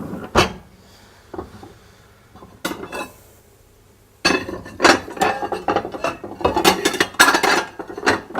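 A plate and cutlery are taken out to serve a pumpkin beef and cashew curry: scattered clatters and scrapes at first, then a long run of busy rattling, clinking and knocking, close and fairly loud.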